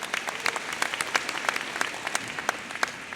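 Audience at a university commencement ceremony applauding, a steady wash of many hands clapping with sharper individual claps popping through, moderately loud and continuous throughout.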